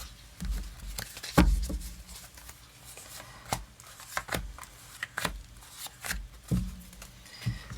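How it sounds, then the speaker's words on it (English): Crystal reading cards being shuffled overhand by hand, giving a string of sharp, uneven riffling snaps and soft slides close up, with irregular pauses between bursts. "Because my overhand shuffle is laughable."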